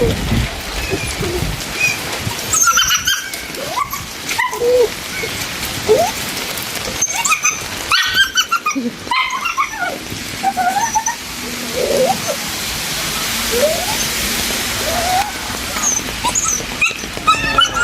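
A stray mother dog at a doorway lets out repeated high, thin whimpers and whines, close and fairly loud, while a person talks over parts of it.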